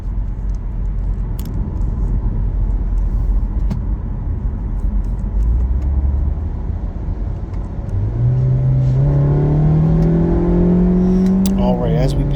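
A stock Mini Countryman S, no intake or exhaust modifications, drones steadily from inside the cabin while driving, its engine note rising in pitch as it accelerates toward the end, with some talk over it.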